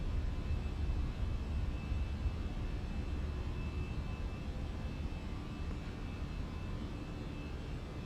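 Steady broadband engine roar of an Airbus A320 on takeoff in a flight simulator, continuous and fairly loud, with no talking.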